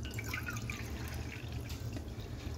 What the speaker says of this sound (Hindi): अब सेम कटोरी के नाप से 7 कटोरी पानी।